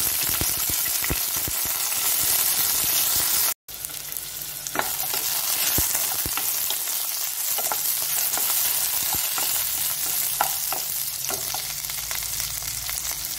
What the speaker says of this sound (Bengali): সর্ষেগুলো চিড়বিড় করছে, এবার আমটা দিয়ে দিচ্ছি।